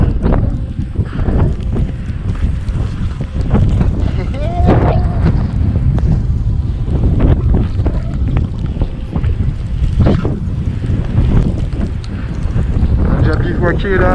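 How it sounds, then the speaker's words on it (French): A strong headwind buffets the microphone on a winter mountain hike in the Vosges massif, a steady roaring rush throughout, with someone speaking over it. "Gros vent de face, je peux vous dire que j'en prends plein la gueule."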